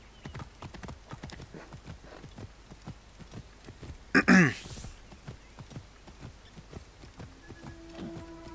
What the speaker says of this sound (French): Est-ce que le cheval est toujours là? Ouais, il est toujours là